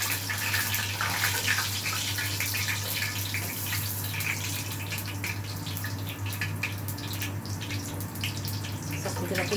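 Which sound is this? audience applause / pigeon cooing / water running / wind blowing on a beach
water running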